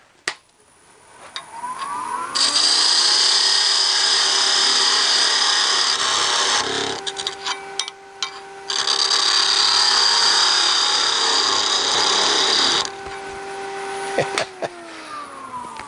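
A wood lathe turns as a parting tool cuts off a wooden piece, giving a loud, steady high-pitched scraping whine that runs for several seconds, breaks off briefly mid-cut, then resumes before stopping near the end.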